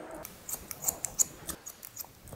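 Scissors snip through a man's medium-length hair, a quick series of crisp, close metallic cuts in uneven rhythm with no talking.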